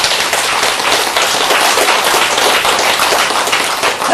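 An audience at a Buddhist Lotus Sutra lecture claps together, a dense, loud and continuous patter of many hands sustained for several seconds with no talk over it.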